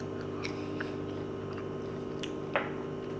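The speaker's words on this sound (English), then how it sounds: "I'm not supposed to be eating onion rings" Close, quiet chewing and biting on onion rings dipped in blooming onion sauce, a few soft crunchy bites and squishy mouth sounds over a steady low background hum, with one sharper bite near the end.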